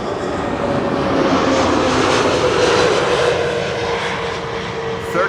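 A Transavia Retro Airbus A320 landing on runway 06 at Amsterdam Schiphol, a loud, close engine roar with a steady whine holding across the few seconds, swelling slightly midway.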